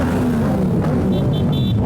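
A car's engine rises in pitch as it speeds up on a drive through small residential streets during a Santa Claus parade outing, steady and fairly loud throughout the short stretch.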